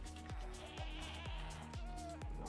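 Screaming goats bleating in a multiplayer video game, faint, rhythmic low thumps and wavering bleats repeating about every half second over a steady background hum.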